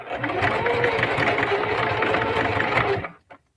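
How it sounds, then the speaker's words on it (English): A sewing machine runs steadily for about three seconds, stitching over the teeth of a small zipper on a coin pouch, close and loud with an even mechanical hum, then stops abruptly. "you're going to sew straight over the teeth of the zipper"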